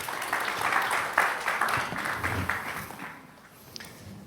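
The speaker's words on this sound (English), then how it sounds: "A big round of applause." A conference audience applauds guests joining a panel on decentralised tech and global regulation, with a steady wash of clapping that tapers off and leaves a few scattered claps near the end.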